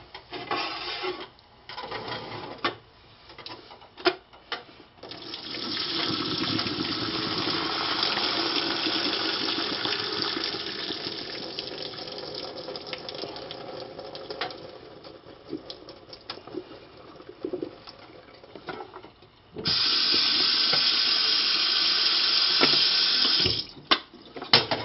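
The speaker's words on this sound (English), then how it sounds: "let's drain the water off of our pasta" Pasta water is drained into a kitchen sink: gushing, splashing water pours in bursts, a long sustained rush in the middle and another strong pour near the end, with clattering between.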